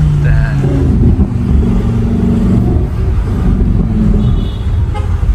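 Engine of a 2024 Lamborghini Huracan Tecnica under hard acceleration, a loud continuous roar with shifting pitch heard from inside the cabin, steady and dense throughout with no clear breaks.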